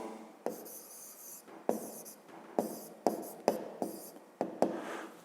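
Pen writing by hand on paper while working a fifth-grade geometry exercise: a series of short scratchy strokes and taps, close and quiet, with brief pauses between words.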